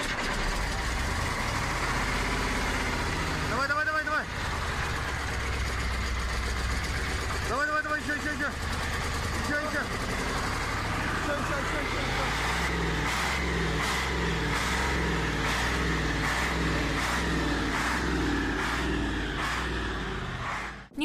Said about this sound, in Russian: Привезли дистопливо, помогли завести машину.